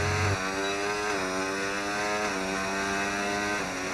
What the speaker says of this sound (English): You could just hear the engine start to power down quite early down straight